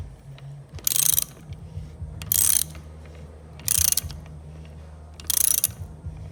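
A flaring tool cranked down on a lowrider hydraulic hardline clicks through four separate bursts of rapid ratcheting, each about a third of a second long and evenly spaced, with low hum in between.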